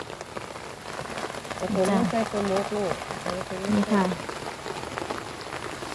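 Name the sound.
heavy rain falling during tropical storm Noru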